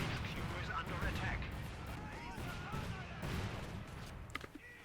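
Butterfly bombs from the strategy game Company of Heroes 2 go off in a dense, rattling string of small explosions and crackling bursts. A commentator keeps talking over the blasts throughout.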